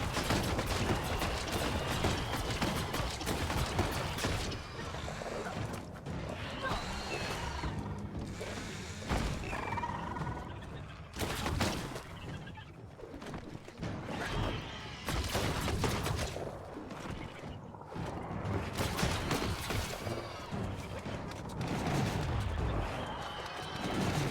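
Bursts of gunfire from weapons in Biomutant rattle on and off across a long stretch, repeated rapid volleys with brief gaps, moderately loud amid thumps and mechanical game noise.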